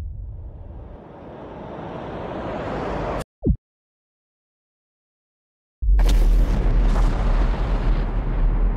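Simulated asteroid impact striking near Africa in a simulation game: a loud, rumbling explosive roar, then an abrupt cut to near silence with one short burst, followed by a sustained, powerful shockwave roar with crackling debris.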